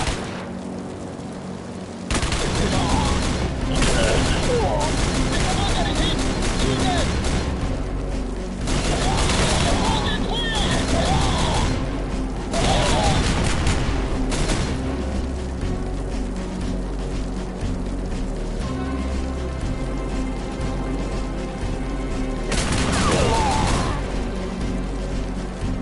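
Loud sustained bursts of machine gun fire with booming impacts in Rogue Trooper Redux, recurring in several heavy volleys over a constant battle din.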